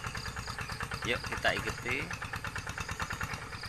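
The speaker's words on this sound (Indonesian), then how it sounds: "pagi ini saya mau mereview membajak sawah pakai traktor." A hand tractor engine runs steadily while plowing a wet rice field, its low rhythmic chugging continuous throughout, with someone speaking briefly over it.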